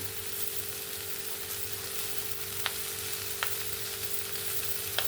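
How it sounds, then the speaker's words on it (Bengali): Gima greens tossed into a pan of fried potato and eggplant with spices, giving a steady, even sizzle, with a few faint scraping clicks of stirring against the pan and no voices. "শাকগুলো সব আমি দিয়ে দিলাম এই আলু বেগুনের সঙ্গে ভালো করে মিক্স করে নেব"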